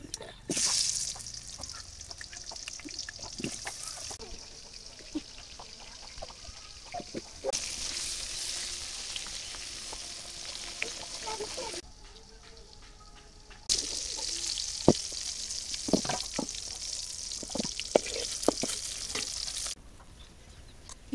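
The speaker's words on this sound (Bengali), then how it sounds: "এবার বেগুনগুলো দিয়ে দেই" Eggplant slices fry in oil in a pan, the sizzle swelling and fading in long stretches, broken up by scraping, stirring clinks and small pops.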